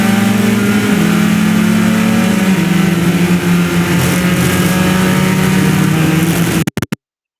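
A race car engine roars at full throttle at Virginia International Raceway North, a loud sustained high-revving drone with a brief gear change, cutting off abruptly at the end.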